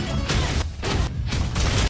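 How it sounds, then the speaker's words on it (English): Tigrex from Monster Hunter World: Iceborne in video game audio, loud harsh bursts of squealing roar in several pulses with brief dips between, filling the whole moment with no talk. "And that's the noise of the Tigrex squealing."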